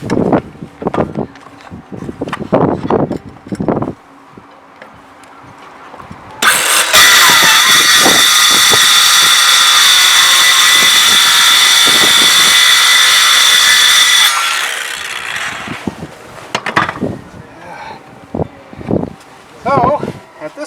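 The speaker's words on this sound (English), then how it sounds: "So, see if I can't cut that with the skill saw." A skill saw cuts into a wooden boat deck as part of a leak repair, whining loudly and steadily for about eight seconds, with knocks, scrapes and bursts of nearby talk before and after.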